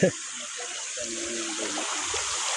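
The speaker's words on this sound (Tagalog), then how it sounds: "Lakas ng agos, nadala ko." A strong current of rushing water roars steadily nearby, with people talking over it.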